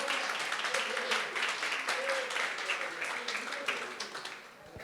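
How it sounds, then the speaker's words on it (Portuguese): A church congregation at a Pentecost worship service applauds in a dense, steady wash of clapping that fills the room, sustained at moderate loudness throughout. "Pode aplaudir ao Senhor Jesus."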